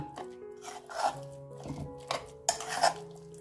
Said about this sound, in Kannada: ಇವಾಗ ಇದೆಲ್ಲಾನು ನೀಟಾಗಿ ಮಿಕ್ಸ್ ಮಾಡ್ಕೊಳ್ಳೋಣ